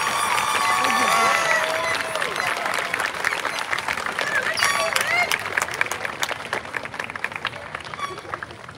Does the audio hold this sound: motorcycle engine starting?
no